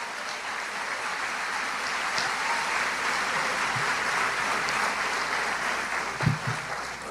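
A church congregation applauding continuously during an evangelical sermon, a steady wash of many hands from a large room, sustained for several seconds with a faint thump near the end.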